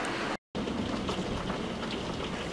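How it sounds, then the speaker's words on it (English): Heavy storm rain pours outside a window as a continuous, even wash of broadband hiss, broken by one brief dropout to silence near the start before the downpour resumes steadily. "yeah it's raining real hard"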